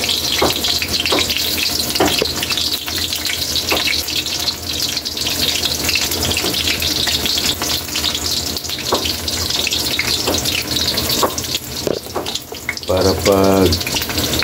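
Eggplant frying in a pan makes a steady, loud hiss and crackle throughout, with brief bursts of speech and clattering utensils near the end.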